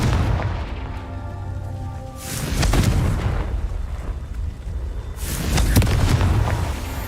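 Two heavy booming blasts from a Confringo explosion spell in the video game Hogwarts Legacy, each swelling into a loud rumbling burst a few seconds apart.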